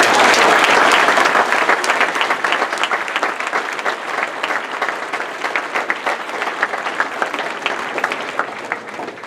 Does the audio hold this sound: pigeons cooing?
no